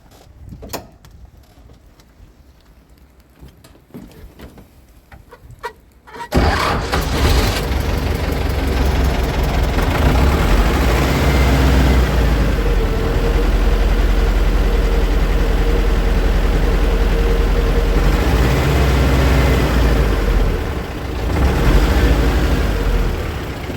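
A T-40 tractor engine starts after a quieter stretch and settles into a loud, steady, close idle with a deep low rumble and mechanical clatter.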